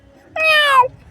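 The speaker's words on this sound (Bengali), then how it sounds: "দেখো এখানে কত বিড়ালের বাচ্চা।" A cartoon kitten gives one clear, close, rising-then-falling meow lasting about half a second, alone against a quiet background.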